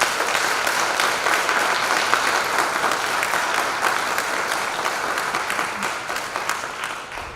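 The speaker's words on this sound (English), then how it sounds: "please give a round of applause for the 2021 CARE Award recipients" An awards ceremony audience gives sustained applause for CARE Award recipients, a dense, continuous roar of many hands clapping that holds steady and only begins to thin slightly near the end.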